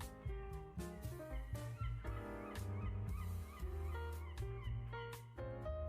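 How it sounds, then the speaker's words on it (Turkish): Squawking seagull cries repeat within a dense music track, mixed among sustained tones and beats, moderately loud throughout. "Martı seslerimiz var."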